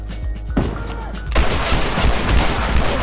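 Semi-automatic gunfire in The Last of Us Remastered multiplayer rings out as a dense volley of loud, close shots after a quieter opening, with a player's voice faintly underneath.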